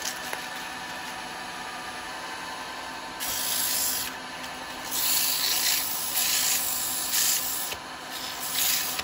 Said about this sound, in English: I'm going to get a little bit of sanding done on it. I shouldn't, it won't be a lot because it is really wet.